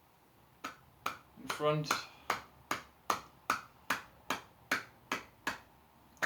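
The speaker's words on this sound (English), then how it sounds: "clap above 10 times" Sharp hand claps during a qigong exercise, about a dozen evenly spaced, close and crisp, with a brief spoken word part of the way through.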